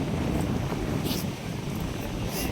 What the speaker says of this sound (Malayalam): നല്ല കാറ്റല്ലേ ചേട്ടാ?